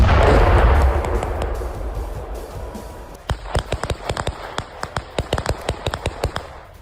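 Rapid bursts of gunfire crack out in a fast irregular series at moderate distance as Ukrainian forces fire at a Shahed drone, following an earlier loud rumbling boom.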